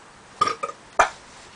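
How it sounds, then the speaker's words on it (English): Hiccups after eating a hot 7 Pot Chaguanas Brown chili: a few short, sharp throaty bursts close to the microphone, two quick ones followed by a stronger single one, with no talking. "Hiccups have already started."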